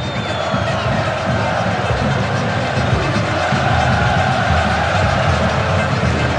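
Football fans in a stadium during a 2012 Libertadores match between Nacional of Paraguay and Corinthians, a broad continuous crowd roar and chanting heard from a distance, with a commentator talking over it.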